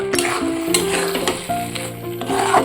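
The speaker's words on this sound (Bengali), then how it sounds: "আর দিয়ে দেব কিশমিশ দিয়ে আরেকটু নাড়াচাড়া করে নিয়ে" Carrot halwa with raisins being stirred in a pan, with loud, close scraping and shuffling strokes over a gentle sizzle and a sustained tonal hum in the background. No one speaks.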